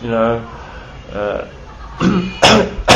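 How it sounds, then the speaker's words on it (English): A person coughs several times, short harsh bursts with pauses between, close and loud, ending in a quick cluster of coughs. "After coughing there"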